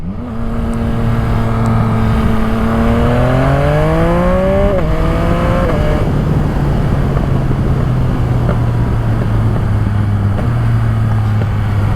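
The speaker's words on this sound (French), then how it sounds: "Je vais juste vous laisser écouter ce bruit parce que le shifter de la première à la deuxième c'est insolent" A Yamaha MT-09 SP motorcycle with a full Spark exhaust system revs hard and close in first gear, then snaps into second with a quick quickshifter cut. The engine note drops and keeps pulling loudly.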